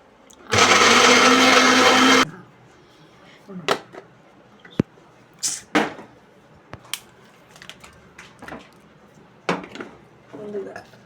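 A kitchen mixer grinder whirs loudly for about two seconds as it blends soaked ingredients in its jar, then stops, followed by scattered clinks and taps of utensils.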